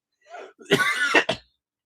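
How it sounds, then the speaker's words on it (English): A single close, loud cough, preceded by a brief throat sound, then silence. "I'm going to cough."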